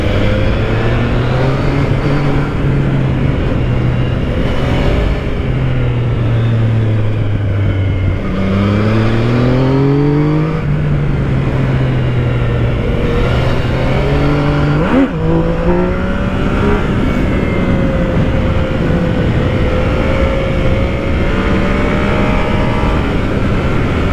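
A 2017 Yamaha MT-09 motorcycle engine accelerating through the gears, a loud, close, continuous engine roar whose pitch climbs repeatedly with brief drops at each shift, heard alone without talk.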